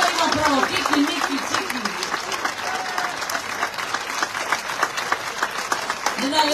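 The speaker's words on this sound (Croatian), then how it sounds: "Jedan lijepi aplauz." Audience applause fills a Croatian concert by a singer, steady dense clapping throughout with a voice calling out over it.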